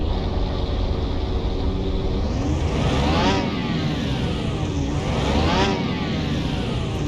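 A car's engine revs hard on a dyno in Car Mechanic Simulator 2021, a steady loud drone with two rising, sweeping pull-ups, no talking over it.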